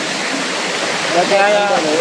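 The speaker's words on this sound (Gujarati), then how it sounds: "ફાઇનલી આપણે છે ને જટાશંકર જે વોટરફોલ છે" Jatashankar waterfall on Girnar roars as a constant, loud, close wash of falling water, with a voice speaking faintly over it toward the end.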